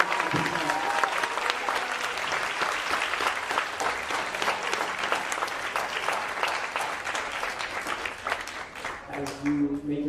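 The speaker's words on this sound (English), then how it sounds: "let's give it one more round of applause" An audience at a high school humanities symposium gives sustained, dense applause for about ten seconds, steady and full, before it thins out and a voice begins at the very end.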